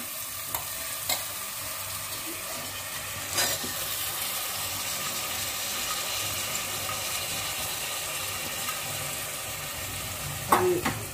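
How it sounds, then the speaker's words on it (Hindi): Soaked rice fries with spices in a pan for peas pulao, a close continuous sizzle with a few occasional clanks and scrapes of stirring, and no speech. "राइस डाल के हम इसको 2 मिनट के लिए"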